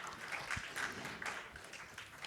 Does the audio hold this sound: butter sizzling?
no